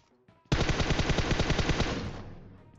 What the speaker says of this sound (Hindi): पीछे से गोली की आवाज आ रही थी